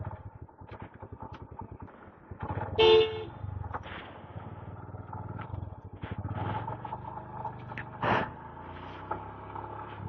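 Lorry and car horns toot briefly amid steady road traffic noise, with one sharp honk standing out and another fainter one later, fairly distant.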